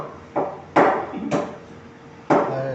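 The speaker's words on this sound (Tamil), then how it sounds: "சூப்பர் மீன் வாங்கியாச்சு கட் பண்ணிட்டு இருக்காங்க" A cleaver chops through fish at a fish market, four heavy, close thuds at uneven intervals, each leaving a short ringing decay.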